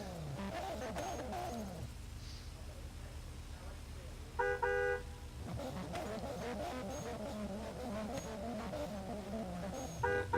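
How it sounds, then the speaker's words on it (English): A car horn gives a short honk from the S13 at a drifting qualifying event, then a second brief honk at the end, both cutting through steady engine drone and commentary. "there's his horn, and he's off and running that S13"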